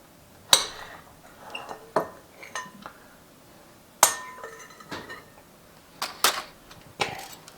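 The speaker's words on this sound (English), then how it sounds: "Okay, scrape all this out, just like that." A utensil scrapes and clanks against a cooking pot while pasta sauce is emptied out, sharp metallic knocks at irregular intervals with quieter scraping between them.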